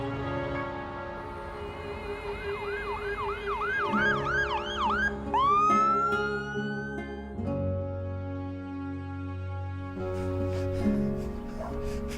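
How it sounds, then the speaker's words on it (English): A wailing ambulance siren sweeps up and down repeatedly, loud and close, then shifts to a different rising tone over steady traffic rumble. "I knew the ambulance came too fast."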